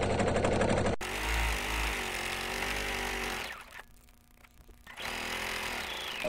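A sewing machine runs steadily while stitching a self-binding placemat, a loud continuous mechanical whir that dips briefly in the middle before resuming at full speed.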